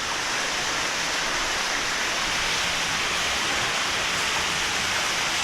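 A small waterfall in the Wadi Al Arbeieen canyon in Oman roars as a steady, dense rush of falling water. It stays close and constant from start to finish, with no other sounds.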